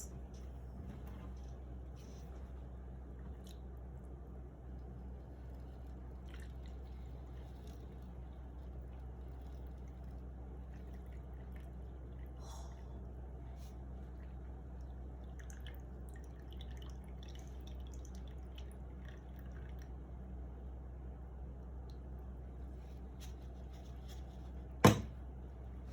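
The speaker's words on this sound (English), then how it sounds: "Pour the water from the glass." Water poured off settled sand from a glass in a decantation experiment, heard as sparse faint drips over a steady low hum, with one sharp louder drop near the end.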